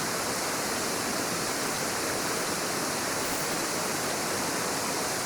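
Water runs steadily at a small, nearly dried-up trail waterfall, a constant close hiss of flowing water with no talk.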